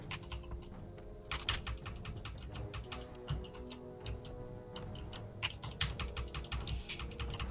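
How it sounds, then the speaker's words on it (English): Loud computer keyboard typing during World of Warcraft play, a steady stream of rapid, close clicks and clacks with no voices. "God, your keyboard is so loud."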